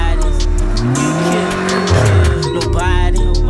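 A tuned BMW car driving, its engine loud and close as it revs and climbs in pitch, with a brief tyre squeal and the exhaust note rising and falling.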